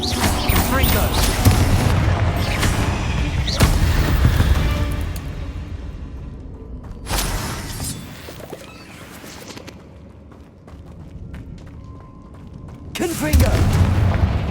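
Confringo spell explosions in a video game, loud booming blasts that recur at intervals with quieter rumbling stretches between them, while a voice speaks over the action.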